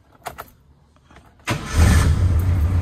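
A Chery car's engine starts up nearby: a few faint clicks, then the starter catches and settles into a loud, steady idle.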